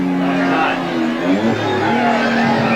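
A race car's engine drones and shifts pitch as it passes, with a race commentator talking over the roar.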